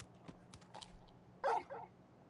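A dog in the Final Fantasy XVI video game gives a short, soft yip and whine, followed by one brief, louder bark-like sound over quiet background ambience.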